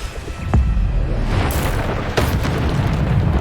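In the Hogwarts Legacy video game, the Bombarda spell detonates with a loud, close boom followed by a second rumbling blast, each burst trailing into a sustained crackling roar.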